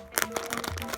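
Plastic packaging from a Godzilla vs Kong 2021 gashapon set being cut open, close crinkling and crackling snips in quick irregular bursts, quiet.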